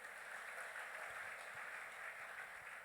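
A church congregation applauds together at a thanksgiving service, a steady, dense wash of clapping that holds evenly throughout with no voices rising above it.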